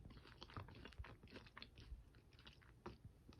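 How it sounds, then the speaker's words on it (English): Crispy, non-greasy food crunched in close bites, a quiet string of irregular chewing crackles with short pauses between, ending in a sudden loud bump. "Like crispy, but not greasy. Like, I don't know if you can like hear the crunch."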